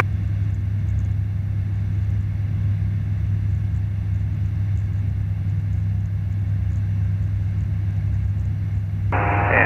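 Steady engine drone of a light aircraft on an aerodrome runway at takeoff, a constant loud low rumble throughout with a brief burst of broadband noise at the very end.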